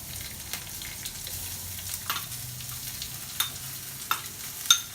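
Onion frying in a pan for paneer bhurji, a steady low sizzle with scattered scraping stirs and a few sharper clinks toward the end, heard close.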